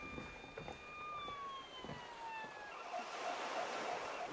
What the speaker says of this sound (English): the ambulance will be here any minute now to pick you up